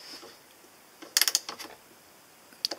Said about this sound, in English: we're just going to tighten up the nut that's on the end just to make sure we've got a nice tight fit